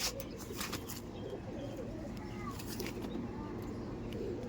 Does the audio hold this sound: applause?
no